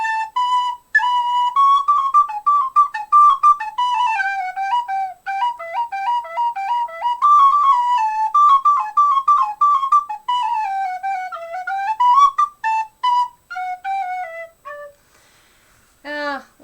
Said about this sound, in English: Let's see if it sounds better on a different whistle